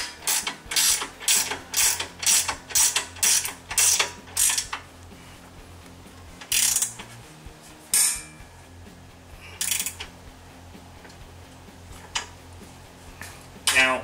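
A bolt on a 2-inch lift kit for an off-road vehicle is tightened with a 3/16 Allen key, giving a quick run of sharp metallic ratcheting clicks followed by a few separate clicks, heard under nearby talk.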